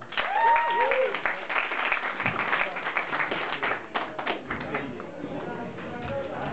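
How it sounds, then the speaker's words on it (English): Audience applause at a spoken-word event, with scattered clapping and taps alongside whistles and cheers that gradually thins out, and voices are heard throughout. "Can I get a big round of applause for Ken Parsons?"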